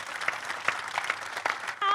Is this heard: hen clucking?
no